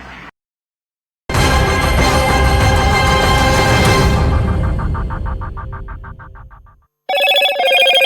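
A loud Motorola 'Hello Moto' ringtone from a smartphone advert plays as a dense burst of sound that fades out, then bright chiming tones start up again.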